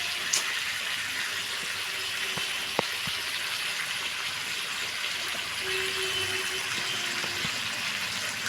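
Water poured into a pan while cooking kabuli chana masala: a steady, moderately loud pouring rush that runs continuously for several seconds with no talking.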